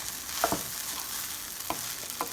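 Pork fried rice with soy sauce being stirred in a hot pan: a continuous sizzling hiss with a few scraping utensil strokes, close and moderately loud, with no talk.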